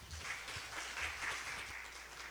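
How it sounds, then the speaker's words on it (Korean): An audience at a symposium for a Sejong City infectious disease control center gives sustained, even applause to welcome a speaker, a steady wash of many hands clapping at moderate distance with no talk. "따뜻한 박수로 맞이하여 주시기 바랍니다."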